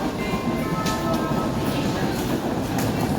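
Regional train number 880 from Chernivtsi to Kyiv, made up of new and older carriages, rumbles steadily at a station with rolling wheel noise and faint clicks, loud and continuous.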